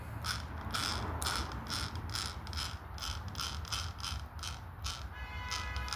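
Rapid mechanical clicking of plastic gears in an RC car, apparently from the spline gear on the yoke, a steady ratcheting rattle repeating several times per second, close and continuous throughout.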